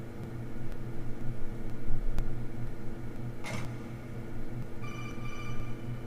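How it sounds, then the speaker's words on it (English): A codec call rings in the stealth video game Metal Gear Solid 2, a short burst of electronic beeping tones over a low steady hum, fairly faint. "Phone call?"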